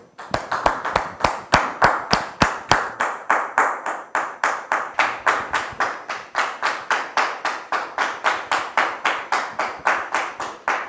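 An audience welcoming a guest with rhythmic clapping, sharp claps in a brisk, even beat of about four per second, sustained for the whole stretch with no voices.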